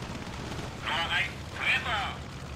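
Aircraft cannon fire from a fighter diving on a slow British Swordfish torpedo biplane in the IL-2 1946 flight simulator: two short, loud rattling bursts about half a second apart over a steady engine drone.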